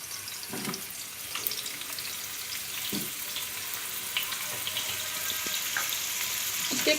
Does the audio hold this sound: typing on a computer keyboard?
no